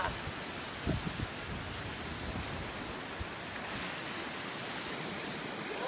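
Baltic Sea surf rolls steadily onto the shore at Cape Kolka, Latvia, where the open sea meets the Gulf of Riga, a continuous broadband wash with wind and a few brief low thumps near the start.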